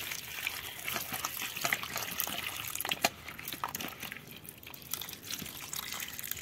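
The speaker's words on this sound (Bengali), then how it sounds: "আলুগুলোর মধ্যে জল দিয়ে দিব" Water poured over cut, unpeeled potatoes in a cooking pot, a soft continuous splash and trickle with scattered drips, fairly quiet and close, heard alone.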